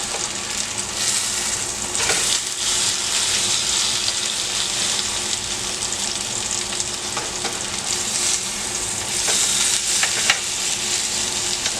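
Grilled chicken sizzles steadily in a skillet, a dense, even crackle that runs the whole time with brief louder hisses as pieces shift, close and alone with no voices.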